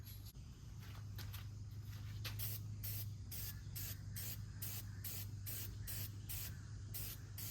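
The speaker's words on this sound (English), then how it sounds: "This one could probably use a little more of the spray." Repeated short bursts of aerosol cleaner spray hiss at close range onto an air filter, about a dozen quick pulses in steady rhythm over a low background hum.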